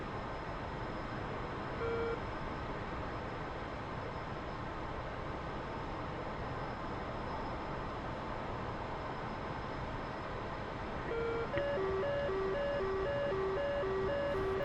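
Repeating electronic warning tone from a DCS World F-14's radar warning receiver as an SA-10 engages, a steady pulsed beep pattern starting near the end over constant loud cockpit and engine hum.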